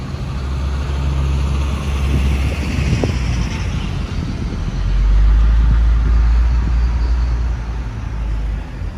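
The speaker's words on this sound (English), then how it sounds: "These trucks are so loud." Heavy trucks rumble past on a busy New York City street along Fifth Avenue, a loud, continuous low engine roar that swells midway, with wind buffeting the microphone.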